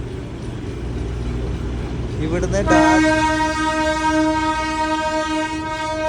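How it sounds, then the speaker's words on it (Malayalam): A Darjeeling Himalayan Railway toy train moves through busy Kurseong town, rumbling low beneath crowd and traffic noise before a loud, sustained horn sounds and holds, with a brief voice speaking over the din. "തിരക്കേറിയ കുർസിയോങ് പട്ടണത്തിലൂടെ ഡാർജിലിംഗ് ഹിമാലയൻ ട്രെയിൻ ഇങ്ങനെ പോവുകയാണ്."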